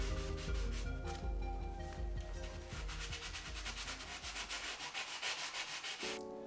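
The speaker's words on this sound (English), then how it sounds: "the final step now before paint is to go through and sand down any surfaces, any of the leftover from the spackling" Dried spackle and caulk are sanded by hand on a board and batten wall before painting, giving close, continuous scraping that settles into a rhythmic back-and-forth rubbing, then stops abruptly.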